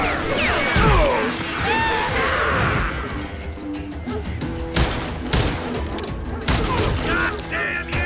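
Gunfire in the Western shooter Call of Juarez Gunslinger: dense volleys of loud shots and impacts crackle through a chaotic firefight, with shouted voices and crashing debris mixed in.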